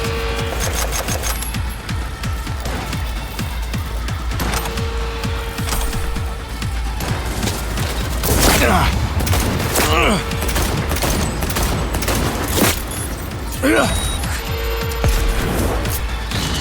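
Rapid automatic gunfire in the video game Cyberpunk 2077: Phantom Liberty, loud rattling bursts stacked close together with sharp cracks and heavier booms mixed in.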